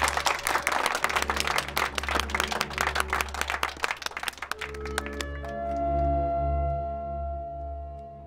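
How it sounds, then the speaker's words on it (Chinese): A crowd gives loud, continuous clapping and applause for a repairman who has just fixed a boiler, running for about four seconds before fading into a quieter tonal background. "来，大家给吴师傅鼓掌。"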